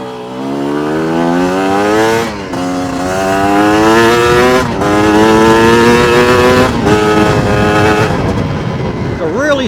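A Chinese dirt bike engine climbing a steep hill, its loud, close drone rising steadily in pitch through each gear, broken by brief shift dips, with the rider talking over it.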